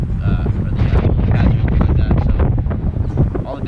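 Strong wind buffets the microphone beside a lake during a bass fishing outing, a constant loud rumbling roar with gusty surges that never lets up.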